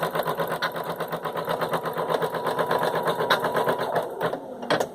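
An embroidery machine sewing a placement stitch for an appliqué on a fabric face mask in the hoop, a steady rapid mechanical stitching rhythm, close and continuous, with a few clicks near the end.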